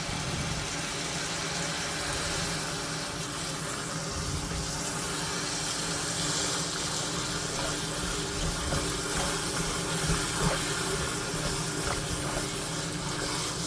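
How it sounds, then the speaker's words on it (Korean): Tap water running steadily into a bowl for soaking vegetables in a kitchen sink, with a continuous broadband splashing hiss that stays even and fairly loud throughout, with no talking. "식초를 넣고 물을 넣습니다"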